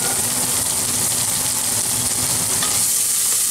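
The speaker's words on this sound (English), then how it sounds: "Then you're gonna saute the onion and garlic." Onion and garlic sauté in olive oil in a pan, making a loud, dense and continuous sizzle that stays close and unbroken throughout.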